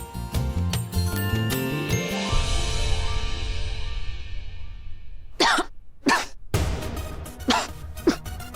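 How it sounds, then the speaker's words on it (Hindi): A woman indoors in a home coughs in several harsh, close bursts, following a bright tinkling musical jingle that fades out. "देखो ना कितना खांस रही"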